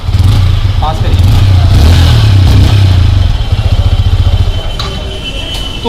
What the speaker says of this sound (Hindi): एक बार एग्जॉस्ट नोट भी लेते हैं